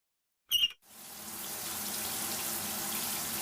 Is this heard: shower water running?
yes